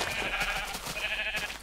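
Sheep in the Minecraft video game bleating in a short, wavering, nasal call that carries over a soft, continuous background, fairly quiet, with no talking.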